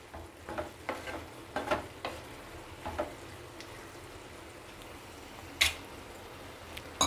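Mixed vegetables for patarali sabji are stirred with salt in a pan under a low sizzle. Several distinct scraping strokes fall irregularly, with a sharper clack near the end and no speech.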